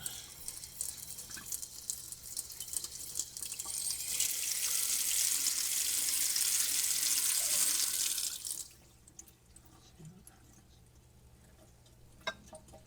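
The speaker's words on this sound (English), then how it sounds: "Turn the water off again," A water tap runs into a sink, a steady loud rushing flow that swells in the middle and then cuts off abruptly, leaving a quiet trickle and faint drips.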